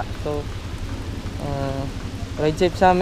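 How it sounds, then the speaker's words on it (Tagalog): Steady rain falls on a wet road during a motorcycle ride home, a continuous wash of noise under the rider's speech. "At umuulan na din, no."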